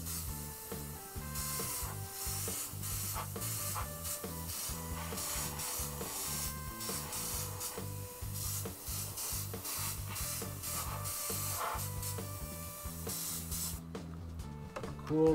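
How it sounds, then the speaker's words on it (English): Airbrush spraying thick coats of orange paint over a spiderweb design on a scale RC truck body, a steady hiss broken by rapid short bursts and clicks, running continuously for about fifteen seconds with no voices. "Nice and thick spray."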